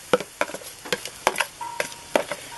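Ingredients sweat down in a pot for pork chili, a faint sizzle beneath repeated sharp taps and scrapes of a utensil against the pot, close and steady.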